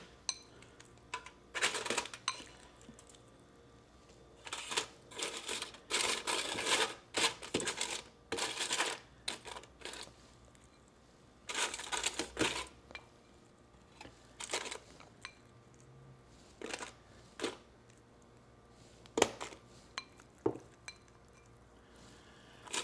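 Twenty raw shrimp tipped into a pan and pushed around during meal prep, giving intermittent clinks, taps and scraping bursts of utensil against cookware, close and fairly quiet, separated by pauses.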